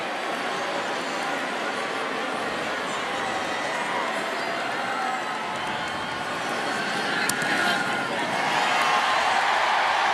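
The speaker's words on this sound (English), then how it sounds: "a big cheer from the Alabama faithful" A large Alabama college football stadium crowd roars after an extra point against Eastern Illinois, forming a steady wide wash of cheering that swells toward the end, with faint talk underneath.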